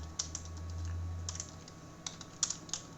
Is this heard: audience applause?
no